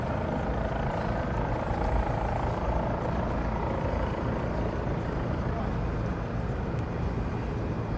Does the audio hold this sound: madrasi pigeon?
no